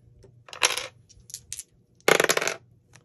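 Dice clatter and tumble on a hard surface in two close, sharp bursts, a short rattle followed by a longer, louder roll, with small clicks between.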